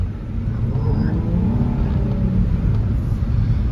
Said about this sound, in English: Ooh, I like that exhaust.